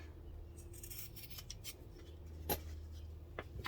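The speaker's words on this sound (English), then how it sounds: "taking your scissors, you're going to want to trim as close to that corner as you can" Scissors trim close to the corner of cross-stitch fabric, giving a couple of faint, brief snips over a quiet room hum.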